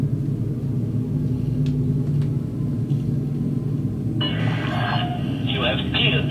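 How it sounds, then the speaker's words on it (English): A spaceship's frameshift drive charges in a video game as a steady low rumble. A radio-style voice cuts in over it near the end. "Frameshift drive charging."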